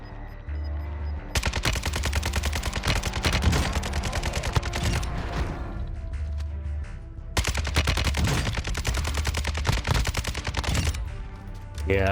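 Rapid automatic gunfire from an RPK light machine gun in the video game Warzone, loud and close, in two long sustained bursts with a short gap between them.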